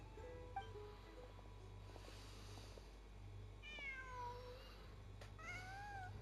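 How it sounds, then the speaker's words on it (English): A cat in the Genshin Impact video game meows a few times in short, rising calls over a soft ambient game hum, faint and alone with no talk. "Oh, there's a cat there."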